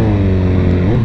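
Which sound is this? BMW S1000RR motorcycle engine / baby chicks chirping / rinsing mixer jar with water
BMW S1000RR motorcycle engine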